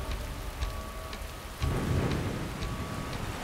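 Heavy typhoon rain beats down on a campsite in a steady, loud hiss with a deep rumble of thunder swelling midway, near and enveloping, no voices.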